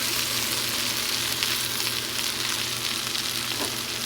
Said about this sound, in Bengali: আগে থেকে ভেজে রাখা সোয়াবিন আর আলু দিয়ে দিচ্ছি